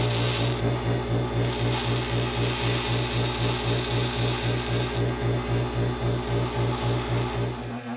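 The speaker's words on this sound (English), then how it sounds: "All right, I'm gonna grind the edges off." A power grinder works the edges of a mother of pearl fishing lure, a loud steady whirring rasp with a fast regular pulse, its bright scraping tone cutting in and out as the piece is pressed to the wheel.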